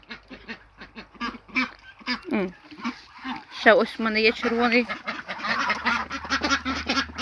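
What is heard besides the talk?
geese and ducks honking and quacking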